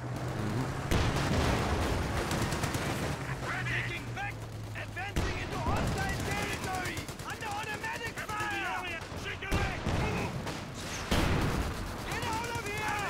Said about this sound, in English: I actually got a mortar pit going back down here.